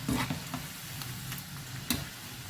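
Onion pakoda fritters frying in hot oil, a steady close sizzle with a few sharp crackles and soft stirring clicks from a spoon, no voices.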